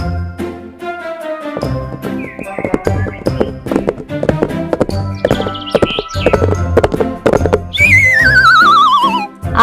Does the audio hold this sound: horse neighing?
yes